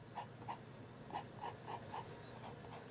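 A Fine Writing International Golden Armour fountain pen nib scratches softly across paper in a quiet series of short, evenly paced strokes, close and faint with no talk.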